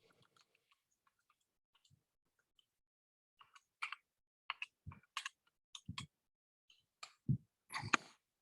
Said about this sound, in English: all I'm hearing is key clicking